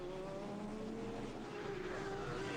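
Alfa Romeo and BMW touring cars racing at the Anderstorp circuit, engines droning at high revs in a continuous distant roar with rising pitch as they run down the straight.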